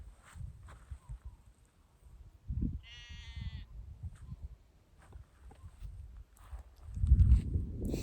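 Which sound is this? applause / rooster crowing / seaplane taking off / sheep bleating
sheep bleating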